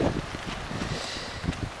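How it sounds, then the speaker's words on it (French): Strong gusts buffet a taut bivouac tent at night, a steady rushing wind roar with flapping, rustling pulses of fabric close to the microphone, no voices. "le vent s'est levé avec une force assez incroyable"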